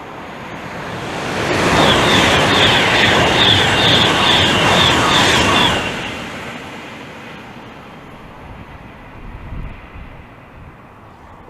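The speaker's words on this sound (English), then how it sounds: "And there's a Pendolino passing from behind." A Class 390 Pendolino train rushes past on the West Coast Main Line at Hemel Hempstead, a loud, close roaring whoosh that swells quickly, holds for about four seconds with a rhythmic high whine, then fades away.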